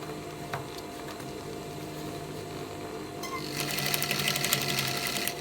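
A sewing machine stitching a corset, running as a steady close mechanical whir that grows louder and faster with rapid needle clatter in the second half, with no talking.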